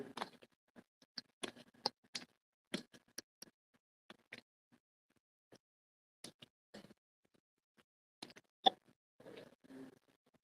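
Hands fold very wet, high-hydration pizza dough. There are soft, sticky slaps and squelching plops in irregular bursts with quiet gaps between them, close by and fairly faint.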